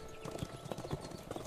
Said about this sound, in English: There's the occasional horse passing by.